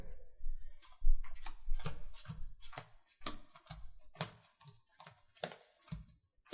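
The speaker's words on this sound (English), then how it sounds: "While I'm shuffling this deck" Shuffling a Magic: The Gathering card deck by hand, a series of crisp riffling bursts and sharp flicks repeating irregularly over several seconds, close and fairly quiet with brief pauses between shuffles.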